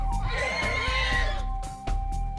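Horses in a herd neigh close by in a loud, brief whinny, with snorts and rough breathy calls breaking through a low background hum.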